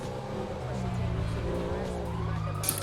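A siren wails steadily over engine drone from an ambulance approaching in a video game driving scene, its tone rising and falling.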